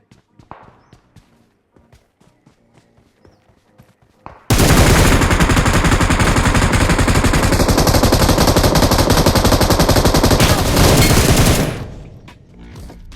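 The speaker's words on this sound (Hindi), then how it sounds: "और M249 की पूरी 150 गोली उतार दी इस पोरे ने।" An M249 machine gun in the mobile shooter game BGMI unloads a long, unbroken burst of rapid automatic fire, very loud and close, lasting around seven seconds after a few scattered faint shots, then fading out.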